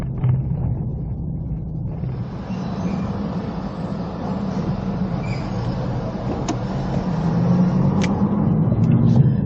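A Toyota Fortuner 2.8 cruising on a road trip toward Pelabuhan Ratu via Cikidang, its steady engine and road roar filling the cabin and growing slightly louder toward the end, with a few faint clicks.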